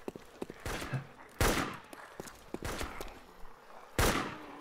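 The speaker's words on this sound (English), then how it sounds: "Oh, he's taking so many shots with his Enfield." Rifle shots from a bolt-action Enfield ring out in a DayZ video game shootout, loud sharp cracks fired singly at irregular intervals with a few faint footstep-like sounds between them.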